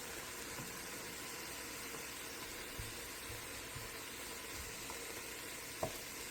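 Mushrooms sizzle and fry steadily in a pan, a continuous close hiss with a few faint stirring taps and one brief clink near the end, no talking.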